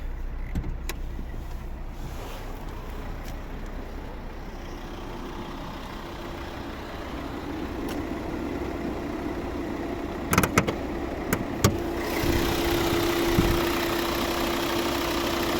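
The 2.0-litre diesel engine of a Volvo V60 D3 automatic runs steadily nearby with a low, even hum, while a few brief clicks and knocks pop out near the end.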